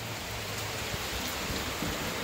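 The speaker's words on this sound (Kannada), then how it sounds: "ತುಂಬಾ ಮಳೆ ಬರ್ತಿದೆ, ನೋಡಿ ಎಷ್ಟು ಮಳೆ ಬರ್ತಿದೆ" Heavy rain pours down steadily in a dense, continuous hiss, loud and close, with no voices over it.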